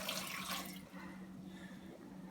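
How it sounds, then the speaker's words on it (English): Water pours into a cooking pot holding apples for homemade applesauce, a steady splashing wash that is loudest at the start and then settles into a quieter trickle. No one speaks. "Then you pour it in the pot with the apples."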